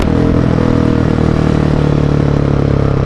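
Close by, a 2017/2018 Husqvarna 701 with a 700 cc engine limited to 41 PS and an aftermarket Mivv exhaust drones loudly and continuously, its pulsing exhaust beat staying fairly constant rather than rising sharply.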